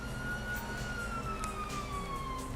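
A police siren wails in GTA San Andreas, a steady gliding tone over a constant low rumble of game noise, fairly faint and with no speech.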